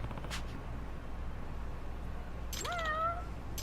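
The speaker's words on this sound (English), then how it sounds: "Follow the cat" A single clear cat meow rises and trails off near the end in the video game Lost Judgment, after a stretch of low, quiet ambience.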